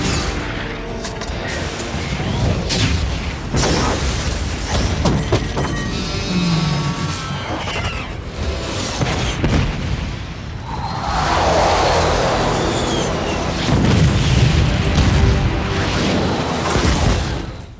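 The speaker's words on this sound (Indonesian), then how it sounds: "dengan satu tembakan, seluruh alat telekomunikasi itu pun hancur" A movie cannon shot and explosion destroying an alien telecommunication network, with loud booms, shattering crashes and whooshing debris rolling through a dense, continuous battle soundtrack.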